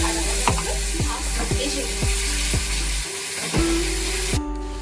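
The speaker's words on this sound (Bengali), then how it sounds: "আমি এতে এবার অল্প পরিমাণে একটু জল অ্যাড করে দিচ্ছি" Steady frying sizzle of chhana kalia throughout with a series of sharp scraping stirs against a pan, ending in a brief burst of hissing spray as a little water is added.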